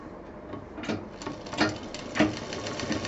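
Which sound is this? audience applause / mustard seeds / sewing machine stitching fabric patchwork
sewing machine stitching fabric patchwork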